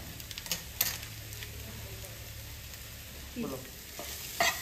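Noodles stir-fried in a pan with green chilli and meat masala, a steady close sizzle under repeated stirring and scraping strokes, with a few louder clinks of the utensil against the pan.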